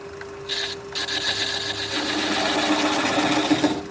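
A wood lathe spins a thin-walled bowl at low speed while a gouge cuts, giving a steady whirring hum with a faint scraping rasp from the tool rubbing the wood.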